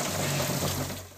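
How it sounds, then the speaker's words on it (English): Water pours steadily from broken ceiling pipes inside a supermarket damaged by overnight violence in Guadalajara, Mexico, a continuous broadband rushing hiss with a low hum beneath it, fairly close and unbroken. "Water pours from broken pipes in the ceiling of a supermarket."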